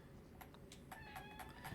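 A domestic cat gives several short, quiet meows indoors, with rising and falling tones that repeat in quick succession.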